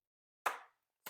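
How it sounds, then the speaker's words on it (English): Two eggs drop into a mixing bowl in a quiet kitchen, giving two soft, close plops about half a second apart, the first a little fuller than the second. "Now we'll add our eggs."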